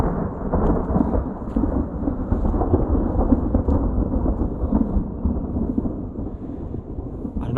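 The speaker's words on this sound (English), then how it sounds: "pretty loud roar of thunder" Thunder rolls in a long, loud, deep rumble that swells and churns continuously for several seconds during heavy rain on a wild hike, with rain pattering underneath and no voices.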